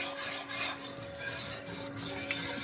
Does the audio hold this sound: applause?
no